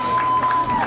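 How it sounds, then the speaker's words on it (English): A concert audience at a live show in Montserrat, December 1991, claps and cheers in a short, dense burst of crowd noise. "I want to give yourself a round of applause for being a very patient audience."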